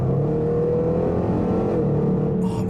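A Range Rover SVR engine roars steadily from close by as the driver downshifts, with a loud, sustained throaty rumble and a faint crackle near the end, and no talking over it.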